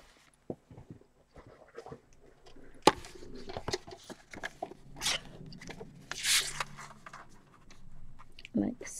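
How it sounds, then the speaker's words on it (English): A sheet of Derwent Graphitint pencil paper is cut in half, with crisp, irregular snipping and crunching cuts near at hand, sharp bursts scattered across several seconds alongside occasional speech. "So if I cut this in half,"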